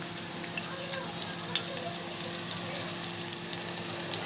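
Chopped onion frying in a pan for a dry fish curry, a continuous close hiss and crackle of oil with a faint steady hum beneath, no speech.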